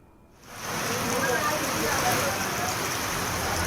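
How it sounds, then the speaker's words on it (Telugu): Rain falls at night during a storm in Andhra Pradesh, a dense, steady hiss of drops that swells in after a quiet start and holds at an even, fairly loud level. "అర్ధరాత్రి ఈదురుగాలులతో కూడిన తేలికపాటి నుంచి ఓ మోస్తరు వర్షం కురిసింది"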